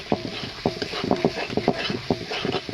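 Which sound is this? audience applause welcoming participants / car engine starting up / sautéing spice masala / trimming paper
sautéing spice masala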